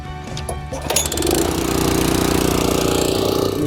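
A Ryan sod cutter's engine starts after a few clattery attempts, then settles into a steady, loud, close mechanical running drone.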